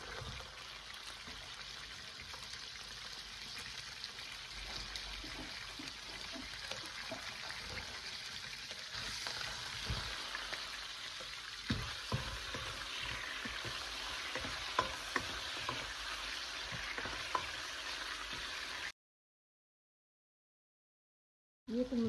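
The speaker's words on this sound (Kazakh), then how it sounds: "Қызып тұрған майымызға алдымен етімізді салып жақсылап қуырып аламыз." Meat fries in hot oil in a pot for a homemade noodle soup, a continuous close sizzle with occasional stirring knocks and scrapes, ending in a brief silence before a short burst resumes.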